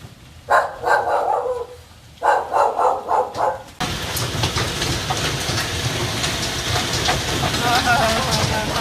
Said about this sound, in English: my dog's just gonna keep barking anyway